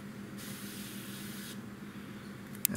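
An airbrush sprays thinned sand gray paint in a soft, close hiss lasting about a second, then stops, ending with a faint click.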